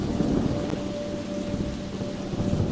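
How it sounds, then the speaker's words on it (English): Steady rain pours down with a low, rolling thunder rumble running underneath, continuous and fairly loud throughout. "woke up to the sound of thunder rumbling in the air"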